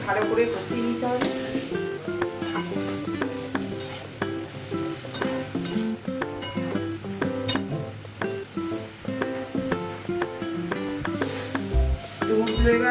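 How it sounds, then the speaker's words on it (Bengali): Boiled figs and potatoes are sautéed with spices in a pan, with a steady sizzle and stirring sounds running throughout, mixed with other louder sounds. "এর মধ্যে সেদ্ধ করা ডুমুর আলুটা দিয়ে ভালো করে কষিয়ে নেব"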